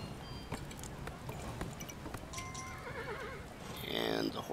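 A horse in the video game Kingdom whinnies loudly near the end after a run of steady hoofbeats, with game sound effects chiming in the background.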